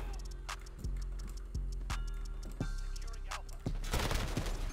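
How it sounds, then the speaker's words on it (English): Gunfire in Modern Warfare, with several sharp shots spaced across the clip and a denser burst near the end, all set against steady game sound. Nobody talks. "Hey, quit shooting at me."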